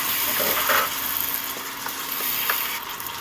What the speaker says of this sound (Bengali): খুব সামান্য জল আমি একটু দিয়ে দিলাম